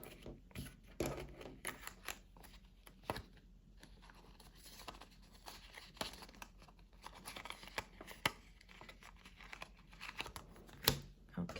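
Cash bills being stuffed into a paper envelope: quiet, close paper crinkling, rustling and sliding with occasional sharper crackles throughout.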